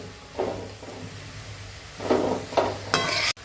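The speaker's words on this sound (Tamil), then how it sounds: "இதையும் நல்லா கிளறி விடுங்க." Green chilli samosa filling being stirred in a pan, with a few scraping stir strokes and soft sizzling, the louder scrapes clustered near the end before a brief clack.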